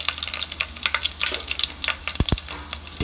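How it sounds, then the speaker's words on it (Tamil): Mustard seeds splutter and pop in hot oil for a Tamil rajma kulambu, a close, dense crackle of rapid sizzling bursts with a couple of louder knocks near the end. "இப்போ கடுகு நம்மளுக்கு பொரிஞ்சிருக்கும்."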